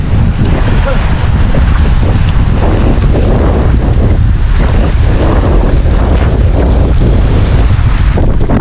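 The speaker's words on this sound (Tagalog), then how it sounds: "Medyo malakas-lakas po ang dagat ngayon." Loud, constant wind buffets the microphone while rough water churns and slaps around a boat, with no pauses throughout.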